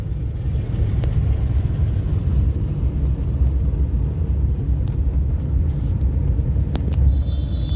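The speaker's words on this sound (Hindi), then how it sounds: "अब लगाओ थर्ड गियर लगाओ, एक्सीलेटर छोड़ो, क्लच दबाओ और आगे की ओर चलो।" Car being driven in third gear during a driving lesson: a steady, loud low engine and road rumble droning continuously throughout, with faint clicks on top and no talk.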